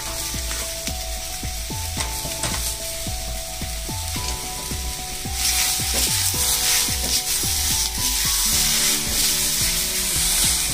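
Ginger and tomato fry in a pan with a loud, close sizzle that swells brighter midway, punctuated by rapid rhythmic scraping and clatter from a spoon against the pan, no voices.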